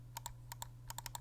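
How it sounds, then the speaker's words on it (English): Side buttons of a Zowie EC3-C gaming mouse clicked several times in quick pairs and clusters, sharp close ticks over a faint steady hum. "Side buttons."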